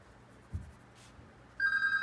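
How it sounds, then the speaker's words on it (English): A landline telephone starts ringing near the end with a bright, steady electronic ring after quiet room noise and a soft thud, close and fairly loud. "My landline phone is now hooked up. That's why that's ringing."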